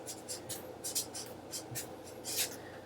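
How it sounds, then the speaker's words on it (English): Pen or marker writing notes on a board during a maths lesson, quiet scratchy strokes in short bursts with small gaps, close and faint. "Let me write that down."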